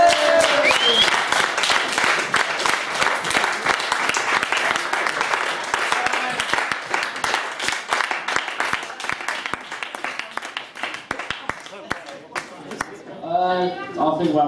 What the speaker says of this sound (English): Another round of applause for Jolley.